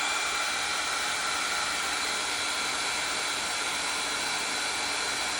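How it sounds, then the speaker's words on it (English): Heat gun running steadily for heat embossing powder, a loud continuous broadband blowing roar with no pauses or talk. "So here is the heat gun."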